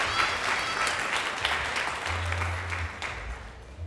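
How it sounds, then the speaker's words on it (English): Steady audience applause in a school concert hall at a winter band concert, honoring the stage crew and theater tech, a sustained wash of many hands clapping with a low rumble underneath throughout. "Can we give a round of applause for them, the stage crew,"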